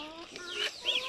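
Hens in a farmyard coop cluck in a short burst of nasal, rising calls, close and clear, with two sharper squawks near the end.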